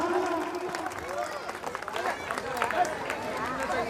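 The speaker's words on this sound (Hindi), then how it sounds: "जोरदार तालियां भाई, जोरदार तालियां।" A crowd applauding to welcome officials at a public gathering, continuous clapping mixed with crowd noise and voices throughout.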